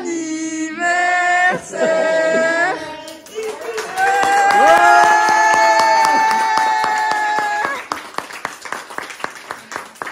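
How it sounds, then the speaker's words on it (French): Hand clapping at a birthday celebration, a burst of sharp claps near the end that follows singing and loud talk from children and adults. "L'applaudissement était par Jacques."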